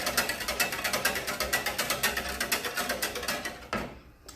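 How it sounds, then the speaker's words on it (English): Whisk scraping through granulated sugar, brown sugar and peppercorn in a bowl, a fast rhythmic gritty rasping close by that stops abruptly near the end. "So I'm going to whisk it together just so that our sugar and the peppercorn and the brown sugar all get"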